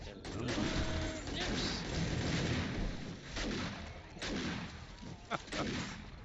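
Explosions from demolisher zombies and automated turret fire roar through a video game horde night, a dense, continuous wall of booming and crackling blasts with repeated heavy hits across the whole stretch.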